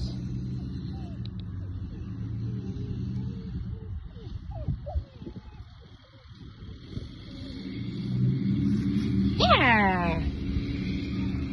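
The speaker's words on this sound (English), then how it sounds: "the truck coming out, so we'll wait." A truck pulls out in a quiet public location: a low engine rumble swells over several seconds to a loud peak, with a brief whining tone near its height and a voice speaking nearby.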